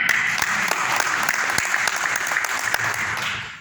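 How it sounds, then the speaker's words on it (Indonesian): Church congregation applauding together, a dense steady patter of many hands filling the room, close and loud throughout before tapering at the end. "Gereja loh, tepuk tangan"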